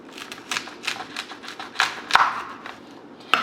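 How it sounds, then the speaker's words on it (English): A knife cuts the bottoms off a bunch of asparagus on a cutting board, giving a quick series of close, crisp chops and taps, then a short pause and two final sharp cuts. "I'm going to cut the bottoms of these off."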